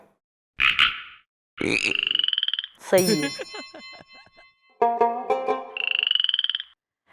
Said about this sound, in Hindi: मेंढक बन जा।